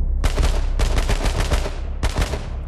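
Loud shotgun blasts in the battle royale game H1Z1 King of the Kill: three heavy, dense bursts close together, each ringing out before the next shot, with no voices over them.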